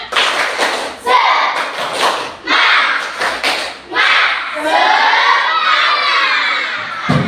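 A class of schoolchildren perform the tepuk semangat clapping chant together, loud rhythmic group claps mixed with shouted chanting voices in bursts over about seven seconds, close and energetic in a classroom.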